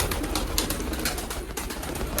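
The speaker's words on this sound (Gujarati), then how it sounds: "આ પણ બચ્ચું છે જો બ્લેક આડો મોટો કબૂતર છે" Fancy Siraji pigeons, including a large black youngster, coo steadily in close pigeon-coop ambience, a continuous soft, throaty murmur with no talk.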